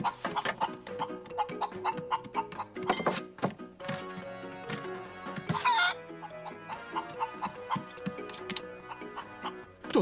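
A pet hen clucks on a balcony at breakfast time, her short, close clucks and calls mixed with sharp taps and knocks, with no talking.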